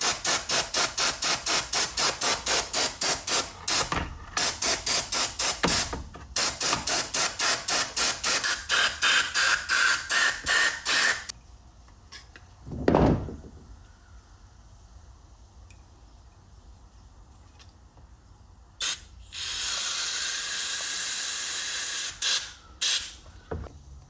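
Compressed air blasts debris off John Deere GT225 lawn tractor parts in long rapid-pulsed bursts, then a quieter stretch with one short thump before another loud continuous hiss near the end, close and alone.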